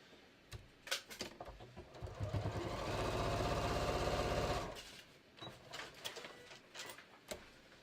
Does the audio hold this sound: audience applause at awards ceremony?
no